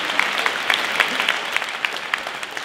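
Audience at a French stand-up comedy show breaks into steady, dense clapping that sounds close and fills the room throughout, with no voices over it.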